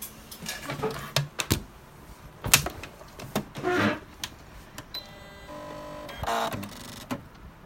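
Sewing machine stitching a crossbody bag, heard as several short bursts of motor whir and needle clatter separated by brief pauses, with a longer steady run near the end; no one talks.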